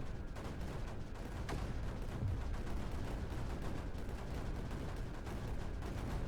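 Cannons firing in the strategy game Creeper World 4, heard as a dense, continuous roar of booming shots packed tightly together, steady and loud throughout with no clear gaps between blasts.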